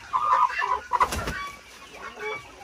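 Young hens about four to five months old, kept for sale on a small poultry farm, cluck in a few short, close bursts, followed by quieter rustling.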